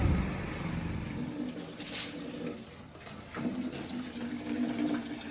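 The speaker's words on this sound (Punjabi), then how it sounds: "ਹੁਣ ਵਿਹੜੇ ਸਿੱਟ ਰਹੇ ਆ ਜੀ ਪਾਣੀ" Water is thrown across a village courtyard, making splashy, sloshing bursts over a continuous watery rush. Louder splashes come near the middle and toward the end, with no talking.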